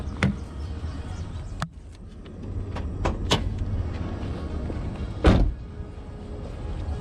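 A car hood is popped open on a drift car, with a few sharp metallic clicks and clunks close by against quiet background rustle.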